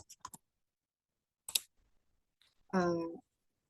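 Keys click on a computer keyboard while a command is typed into AutoCAD. A quick cluster of taps comes first, then a few more, followed by a brief voice.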